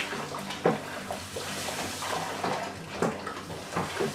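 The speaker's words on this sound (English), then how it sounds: "Start getting it to mash in. Just make sure you stir constantly." Grain being stirred into water for a moonshine mash, a continuous wet sloshing and swirling with soft knocks of the paddle, steady and close.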